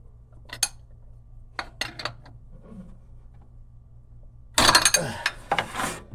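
A wrench working on the pulley of an LS 5.3 engine gives sparse, sharp metallic clicks close up, then a loud clattering burst of metal noise near the end.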